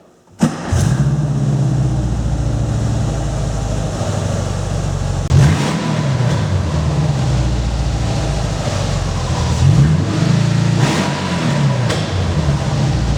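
A Volkswagen with a Subaru engine conversion idles with a deep rumble, then revs up several times in rising swells before settling back, loud and close.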